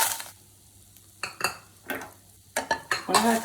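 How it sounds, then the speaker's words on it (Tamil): Red chillies dry roasting in a pan for puliyodharai podi, with intermittent scraping and stirring clatters of a spoon against the pan between quiet gaps, close and fairly loud. "நல்லா இப்போ மிளகா வறுத்துட்டேன்."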